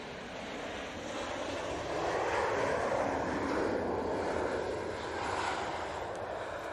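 An airliner landing at Manchester Airport, a broad steady engine roar and rushing air that swells slightly then holds, heard from a distance outdoors without talk.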